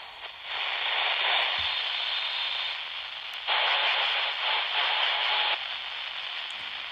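Radio reception of music on CB channel 29 during strong skip conditions, a dense hiss of static and noise filling the band steadily throughout, swelling louder midway, with no talk over it.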